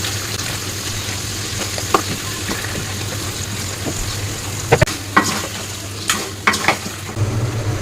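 Two mutton heads sauté in spiced masala in a pot: a steady sizzle and frying hiss runs throughout, broken by a few sharp metallic clinks and scrapes of a spoon stirring against the pan, close and fairly loud, with no talk.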